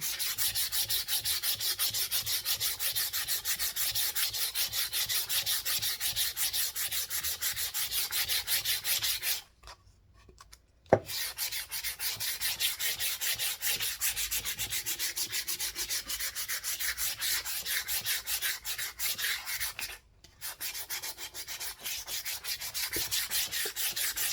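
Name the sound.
sanding painted wood with sandpaper for patina effect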